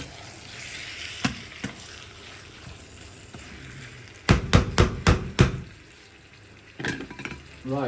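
Onions frying in a pan for Sindhi biryani, with a broad hiss and sizzle beneath a burst of loud, rapid scraping knocks from a spoon stirring against the pan, then a few softer stirs.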